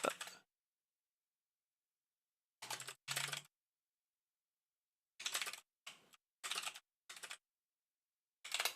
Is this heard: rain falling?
no